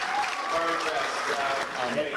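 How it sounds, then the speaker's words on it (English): An audience at a meeting applauds steadily for about two seconds, a dense even patter with voices talking in the crowd. "let's give John a big round of applause on the answer"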